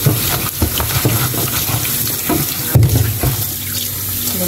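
Water runs steadily from a tap into a sink, a loud continuous splashing with occasional clinks and knocks close by.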